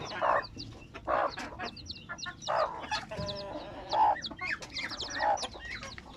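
Chickens cluck repeatedly in a busy farmyard, rhythmic bursts of clucking over a steady background of other birds and faint noise.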